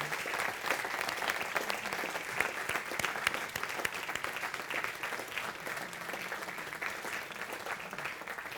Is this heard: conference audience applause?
yes